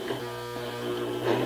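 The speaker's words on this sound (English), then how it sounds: "So if you only press a little bit, it's going to stitch slow." A Janome 2212 sewing machine stitching slowly under light pressure on the foot pedal, a close, even motor hum with a faint mechanical whir throughout.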